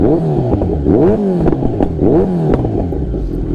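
Kawasaki Z900 motorcycle engine revved up close by, with several rising and falling throttle blips in quick succession, loud and steady with no talk.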